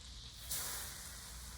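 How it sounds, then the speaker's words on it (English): Melted butter sizzling in a pan before cornflakes and sugar go in, a faint steady hiss that swells briefly partway through, with no talk. "now that your butter is all melted and sizzling"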